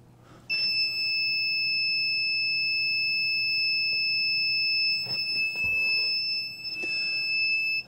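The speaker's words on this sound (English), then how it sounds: "it will buzz" Buzzer on an ESP32 PIR motion sensor circuit sounds a steady, piercing electronic tone that holds for several seconds, with faint desk clicks and rustles underneath.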